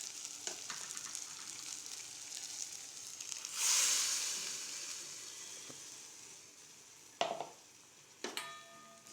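Coconut, onion and garlic ground into a paste is stirred into a simmering tamarind gravy with drumstick in a pan, giving a steady close sizzle with brief scraping bursts near the end, no voices.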